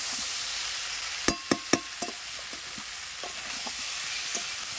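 Stirring and frying of chicken in a pan in a Bengali home kitchen, with a few sharp scraping clinks of the utensil over a steady background sizzle, the clinks fading into softer occasional taps.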